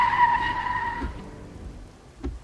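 A car skids to a sudden stop as a drama sound effect, a sharp tire screech at the start fading out, followed by a couple of soft thuds, with no voices.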